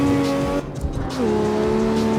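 Engine of a V12 drift car in the PC racing game CarX Street, a steady revving drone that drops briefly, then returns at a lower pitch with tire squeal.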